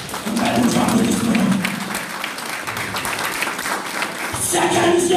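Church congregation clapping in a dense, steady burst of applause that dips briefly and surges again, with voices speaking over it.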